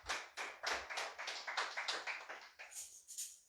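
A church congregation at a sermon claps in steady rhythmic unison, about three sharp claps per second, moderately quiet and without talk.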